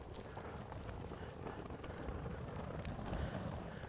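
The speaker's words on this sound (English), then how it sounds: "It's quite windy here." Strong wind buffeting a microphone outdoors during horse training, a steady, rough roar that continues throughout without a break.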